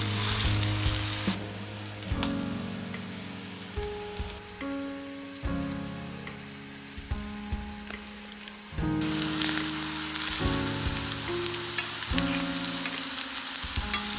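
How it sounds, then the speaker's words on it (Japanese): Stuffed shiitake mushrooms filled with meat fry cap-side down in a hot oiled pan, giving a steady close sizzle and crackle under soft background music, with a brief louder burst of spattering partway through. "フライパンに油を熱し、内側を下にして並べて炒めます。"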